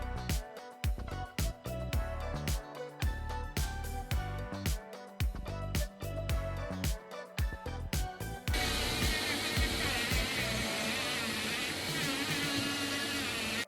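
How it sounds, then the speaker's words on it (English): An electric engraver buzzes against a resin print while removing support marks, loud rapid pulsing bursts that give way to a continuous harsh rasping buzz, close up with no voices. "the engraver clears them like a hot knife through butter"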